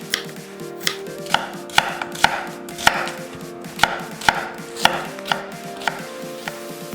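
A kitchen knife slices halved onions into thick strips on a cutting board, a steady series of crisp, close chops and board knocks, with no talking.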